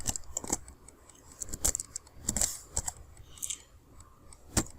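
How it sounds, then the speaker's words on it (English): Typewriter-style key clicks added to a subtitle being edited in Camtasia, an irregular run of sharp, close, fairly faint taps and clacks with no voice. "So how do you achieve the typewriter effects?"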